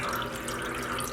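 Steady tap water runs over freshly dyed sock yarn as it is rinsed in a sink, a continuous close rushing and splashing with no pauses.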